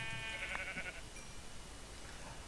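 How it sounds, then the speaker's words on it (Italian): A Minecraft sheep bleats once, clear and close, in the video game, a short wavering cry over a constant background hiss. "Pecore molto importanti."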